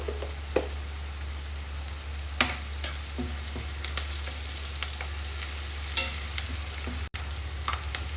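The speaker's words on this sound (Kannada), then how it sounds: "ಈರುಳ್ಳಿ ಎಣ್ಣೆಯಲ್ಲಿ ಬಾಡಿದ ನಂತರ ಸ್ವಲ್ಪ ಟರ್ಮನ್ ಟರ್ಮರಿಕ್ ಪೌಡರ್ನ ಸೇರಿಸ್ಕೊಳ್ಳಿ" Onions sautéing in oil with turmeric powder added crackle in a steady, even sizzle, broken by sparse spoon scrapes and taps against the pan, close and continuous with no speech.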